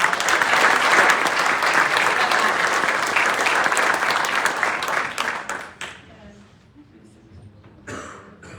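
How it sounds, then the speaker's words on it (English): A crowd applauds at a hospital nurse award ceremony, loud sustained clapping from an audience that fades out after several seconds, leaving quiet room noise with a cough and a few voices. "So another round of applause for everyone."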